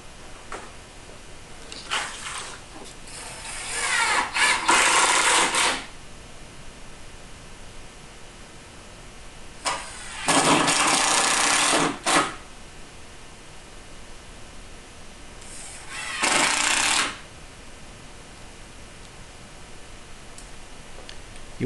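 Power screwdriver driving screws into panels of a base lazy Susan corner cabinet during assembly, three loud buzzing bursts of a few seconds each with quiet pauses between.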